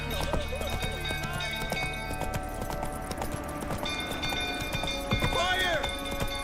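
Roach the horse gallops in The Witcher 3, a steady run of hoofbeat clip-clops over game music and ambience, with a brief neigh-like call near the end and a voice heard faintly.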